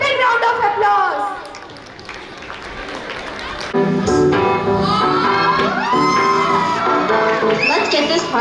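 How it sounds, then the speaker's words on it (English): An audience at a school annual function clapping, shouting and whooping, loud and continuous, with chatter and a voice over the crowd noise. "So please welcome with a big round of applause."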